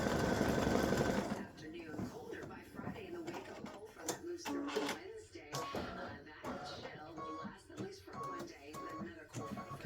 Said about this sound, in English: the next step after this is going to be the actual stitching the actual board for the tic-tac-toe